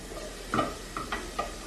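Butter being stirred around a hot pan, with a low sizzle underneath and a few brief clinks and scrapes of the utensil spaced across a short, fairly quiet stretch.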